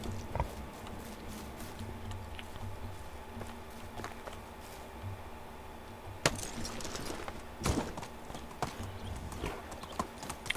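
Horse hooves clip-clop at a fast gallop in the medieval survival game Medieval Dynasty, a steady rapid rhythm close by over a low ambient bed, with a few louder thuds near the end.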